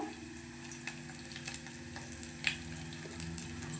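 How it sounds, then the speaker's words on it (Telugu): Dried red chilli sizzles in hot tempering oil for a cucumber dal, a steady soft crackle and fry close by with occasional sharper pops and light stirring, no talking. "ఒక ఎండుమిర్చి కూడా తాలింపులో వేసుకుందాము"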